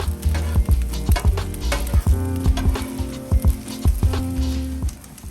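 Bacon sizzling on a Blackstone griddle while smash burgers are made, with a steady loud fry broken by repeated sharp scraping and tapping of a metal spatula against the flat-top.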